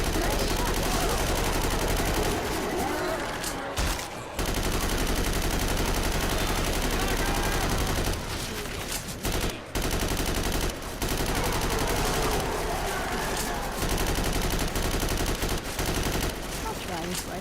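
Sustained, rapid assault rifle fire in a survival shooter game, dense bursts rolling almost continuously with only brief pauses, loud and close, with some speech mixed in.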